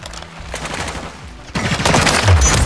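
Rapid gunfire from a Call of Duty MW3 search-and-destroy match, a quieter burst of shots followed by a louder, denser stretch of fire in the second half.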